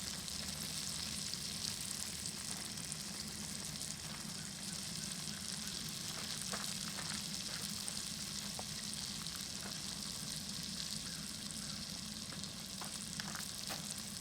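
Vegetables softening in bacon grease inside a Lodge cast iron Dutch oven, giving a steady, even sizzle and frying hiss throughout with a few faint crackles and stirring clicks, no voices.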